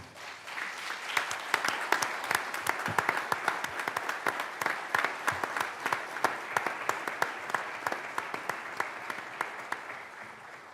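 Sustained applause from a symposium audience honoring the staff, with many individual claps in a steady, moderately distant patter that continues evenly throughout.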